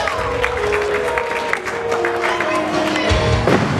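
A crowd at a wrestling show in Snodland applauds and cheers a wrestler's entrance, with steady clapping throughout and a commentator talking over it.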